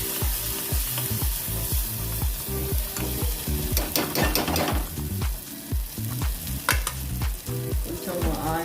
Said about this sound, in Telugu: కొంచెం ఆయిల్ ఫ్రై చేసుకోవాలి దగ్గరగా ఉండి.